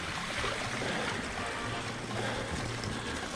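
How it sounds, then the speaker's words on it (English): Continuous rushing, splashing water noise with a low motor rumble underneath as an Orbea Wild FS M10 electric mountain bike ploughs through a deep puddle. "Extreme puddle crossing."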